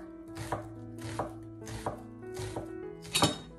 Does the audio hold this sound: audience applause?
no